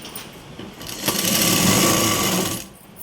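A sewing machine stitches a blouse sleeve in one continuous close whirring run of about a second and a half. The run starts abruptly and then stops, with quiet before and after.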